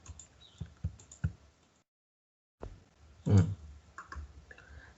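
A computer mouse clicks several times during software work, crisp close taps in an uneven rhythm, broken by a short silent gap and followed by a louder clunk and more clicks.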